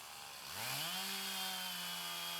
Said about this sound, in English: my dad right now is cutting it all up, or bucking it, you can call it that, into firewood sized chunks